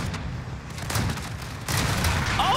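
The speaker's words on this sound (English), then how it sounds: "there's so many explosions" Explosions in the Call of Duty Warzone video game near a train track, low rumbling booms and gunfire-like bursts swelling in a continuous dense barrage, louder toward the end.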